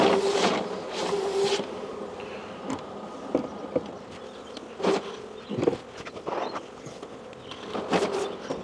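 Honeybees buzz in scattered bursts as frames are shaken off over a hive, with sharp knocks of wood between the droning hum, close and moderately loud.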